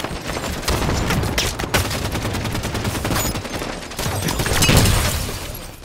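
Rapid gunfire rattles through a Halo 5 Guardians firefight, dense overlapping bursts and single cracks stacking into a continuous loud fusillade for several seconds, swelling again toward the end with no voices over it.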